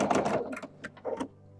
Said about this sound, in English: Now let's sew that seam.